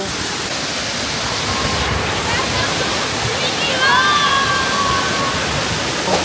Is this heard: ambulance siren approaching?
no